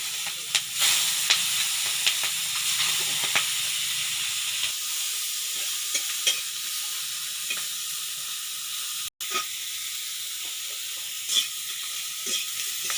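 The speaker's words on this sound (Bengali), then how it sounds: "চিংড়ি মাছগুলো আমি অল্প করে ভেজে তুলে নিচ্ছি" Prawns fry in oil in a village-style pan with a steady bright sizzling hiss throughout, punctuated by scattered crackles and occasional soft stirring clicks, close and fairly quiet.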